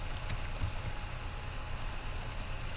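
Someone types on a computer keyboard, with faint scattered key clicks over a steady low hum and background noise.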